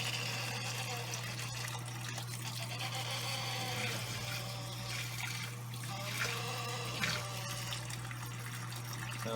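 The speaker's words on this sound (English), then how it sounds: "Sounds like my pump's crying." An aquarium air pump runs with a steady low hum and a strained whining drone, with water trickling and bubbling over it throughout, close and even, and nobody speaks.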